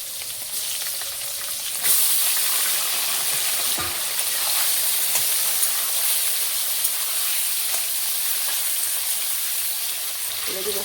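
Bay leaves, raw onions and whole garlic fry in a pan for a chicken dish. A continuous, bright sizzle and hiss carries throughout, with a couple of brief clinks of stirring.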